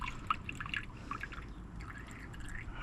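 Diesel is poured into a new filter on a Caterpillar C15 engine, giving a faint, close trickle and dribble with small splashy drips and gurgles.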